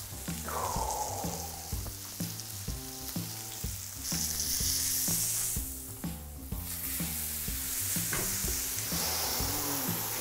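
A tomahawk steak searing in a hot pan, giving a loud continuous sizzle that swells and eases, layered under rhythmic background music.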